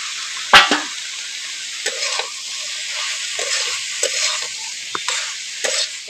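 Prawns frying in a hot pan with a sugared, mixed base, a steady broadband sizzle punctuated by a loud initial splash-clatter and several sharp stirring knocks, close and without any talk.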